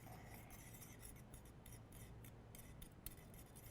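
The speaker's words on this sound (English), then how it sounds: "Also, forgot a spoon, so we're stirring with a fork." A fork stirs a sauce reduced to about three quarters of a cup, giving a steady, faint scraping and rubbing against the pan that runs unbroken for several seconds with no voices.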